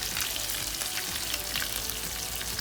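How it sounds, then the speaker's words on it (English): Spiced French toast pieces frying in a pan, giving a steady, dense, crackling sizzle that continues without a break and without talk. "Hear that nice sizzle?"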